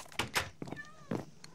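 A cat in a survival video game gives several short meows in quick succession, close and fairly soft, with a faint tonal chirp between them and no talking.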